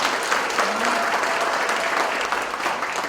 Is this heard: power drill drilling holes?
no